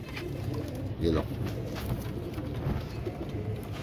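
Soft cooing of pigeons in a loft of fancy breed birds, a brief coo standing out briefly under someone talking close by.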